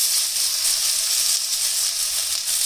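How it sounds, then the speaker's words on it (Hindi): Cut potatoes fry in oil in an iron pan, giving a steady, dense sizzle that holds evenly at close range throughout, with no voices over it. "तो आलू को अच्छे से हम कर लेंगे यहाँ पर फ्राई।"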